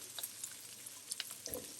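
Onions sizzle quietly in a pan of hot olive oil, with a soft stir and a few light clinks near the end.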